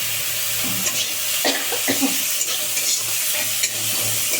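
Washed, chopped onions sizzle loudly and steadily in a hot pan, with a spatula stirring and scraping in uneven strokes and no voices.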